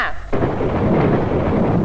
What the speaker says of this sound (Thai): ฝนจะตกฟ้าจะร้อง